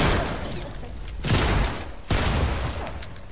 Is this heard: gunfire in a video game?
yes